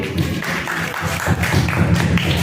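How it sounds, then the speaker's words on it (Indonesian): Classmates applaud a peer in a school coaching session, a short burst of scattered hand claps and taps from a small group, fairly close and steady for a couple of seconds. "Ya kasih tepuk tangan dulu teman kalian"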